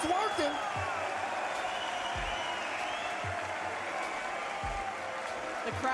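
Crowd at a Rocket League championship LAN watch party cheering and clapping in a steady wash, with a commentator's voice and occasional thuds over it.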